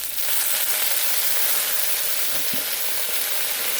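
Shrimp and zucchini stir-frying in a hot pan give off a steady, loud sizzle and crackle throughout, with a brief scrape of stirring partway through and no talking.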